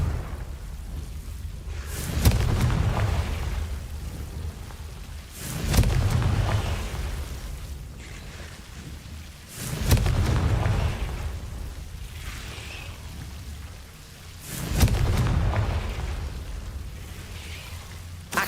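Confringo blasting spells in Hogwarts Legacy, four heavy booming explosions spaced a few seconds apart, each a sharp crack swelling into a deep rumbling roar that fades slowly before the next, loud and close with no speech.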